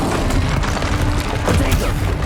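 The Expelliarmus disarming spell is cast in the Hogwarts Legacy video game, a loud booming magical blast with crackling impacts and rumbling combat noise throughout.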